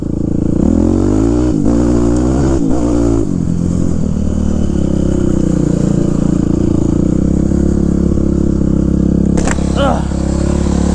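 A Yamaha YZ426F dirt bike engine runs loudly as it is ridden, rumbling at a steady throttle with a few brief surges and clatter near the start, heard up close throughout.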